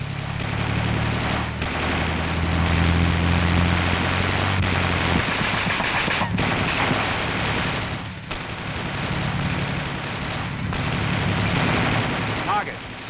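An M551 Sheridan's coaxial machine gun fires at troops in loud, sustained bursts with heavy rumbling behind them, and a few brief pauses break up the long stretch of fire.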